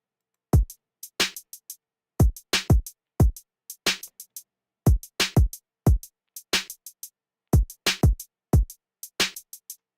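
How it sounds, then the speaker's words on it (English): Full drum loop from a beat built in FL Studio: punchy kicks with sharp snares and crisp hi-hats in a steady repeating pattern, clean and loud with no vocals. "so yeah, all together, the drums sound like this once again."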